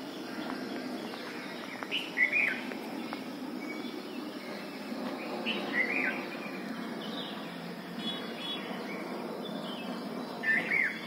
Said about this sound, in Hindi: ये बुलबुल बोल रही है।